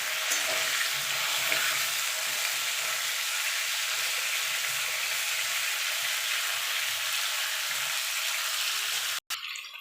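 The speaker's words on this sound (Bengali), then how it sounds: "এবার আলু আর পেঁপেটা ভালো করে একটুখানি ভাজা ভাজা করে নেব" Diced potato and papaya frying in oil in a pan, a continuous bright sizzle with faint low scraping underneath, steady and close, ending in a brief cut near the end.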